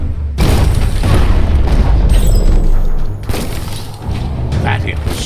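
A bomb locker is blown apart in the video game Biomutant, a loud close boom with debris clatter that fades after a few seconds before more rumbling returns.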